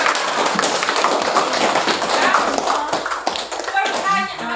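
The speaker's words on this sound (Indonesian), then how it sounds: "Tepuk tangan dong." A class claps together in a dense, sustained burst of applause, loud and steady throughout, with a few voices mixed in near the end.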